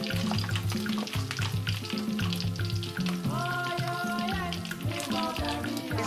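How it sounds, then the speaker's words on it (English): Turkey tails fry in hot oil with a continuous bubbling sizzle, partly masked by loud background music with a steady beat and melodic tones. "Fry it till it's golden brown."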